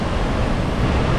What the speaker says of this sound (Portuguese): Agora tá vindo uma onda grande lá, ó. Acho que agora vai bater bem alto